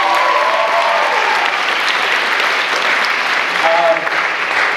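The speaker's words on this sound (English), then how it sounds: "Let's give her a round of applause also." An audience at an awards night applauds, sustained clapping filling the room at an even level, with a voice briefly audible over it.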